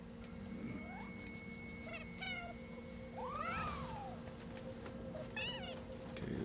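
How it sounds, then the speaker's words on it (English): A cat in the Nioh 2 video game meows several times in quick succession, high and clear, over a steady low game ambience with no talking. "there's the kitty right there"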